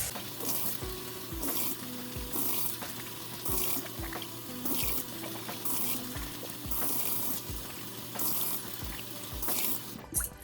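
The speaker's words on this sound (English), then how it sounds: "And now I'll wash this rice till the cloudy water runs clear." Medium grain rice is rinsed under a running kitchen tap, steady splashing water with rhythmic swishing and scraping as the grains are stirred in a bowl, close and alone without talk.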